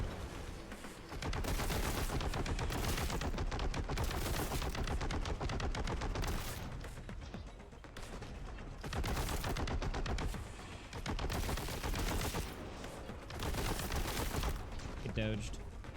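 Enemy gunfire in a video game pours out in dense, sustained bursts of rapid shots that rise and fall across the whole stretch, loud and nearly continuous, with short gaps between volleys.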